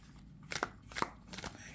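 Overhand shuffling of a Tarot & Oracle of the Rose deck: three or four quick papery riffling bursts, close and fairly quiet, with no talking.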